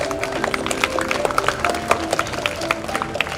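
An audience claps for girls receiving Group 3 certificates at an Easwaramma Day stage ceremony, a dense, steady patter of many hands that runs through the whole moment with a little crowd murmur underneath.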